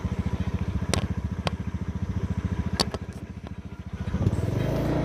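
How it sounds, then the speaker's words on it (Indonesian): Motorcycle engine running steadily while riding toward an old Dutch ammunition bunker, a close, even throbbing putter throughout with a slight swell near the end, no talk. "Jadi kita pakai motor aja ke dalam biar lebih cepat."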